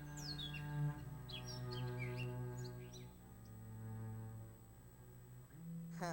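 Bluebirds chirping in short, bright high calls scattered over the first few seconds, set against a steady low tonal background that continues throughout.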